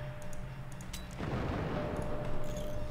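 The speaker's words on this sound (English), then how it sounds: "cluster missiles are insane with how many there are" Cluster missiles launching in the Forts game with a modded weapon setup, producing a burst of overlapping firing thumps and crackles that swells into a sustained rumbling volley, with only faint voices.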